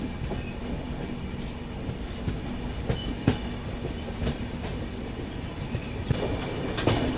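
The Sapt Kranti Express, an Indian superfast train, pulls away and runs on its rails, with a steady rumbling roll and scattered wheel clicks and clanks from the car, heard continuously throughout without talk.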